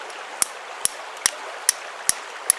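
A steel striker hits the edge of a flint to resharpen it, six sharp evenly spaced clicks close by against a quiet background.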